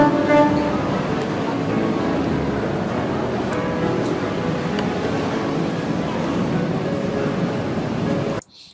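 A sea-wave sound effect laid into an edit: a loud, steady, wash-like surf roar that runs unbroken, then cuts off abruptly near the end.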